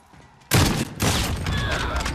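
Gunfire in a video game, a headshot: two loud, sharp blasts about half a second apart, each followed by a ringing, noisy tail that stays strong to the end.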